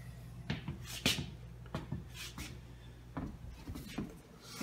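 The small door on a legacy computer case is handled and pushed shut against its magnetic catch, giving a few soft clicks and light plastic knocks with brief rubbing sounds, close and quiet.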